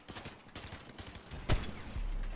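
Gunfire rings out in a battle royale video game as a player is sniped. Scattered muffled shots and clatter lead to one sharp, loud crack near the middle, with a low rumble following.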